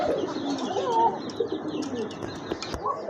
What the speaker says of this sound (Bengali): এখানে দেখতে পাচ্ছেন এক জোড়া বিডি কিং কবুতর রয়েছে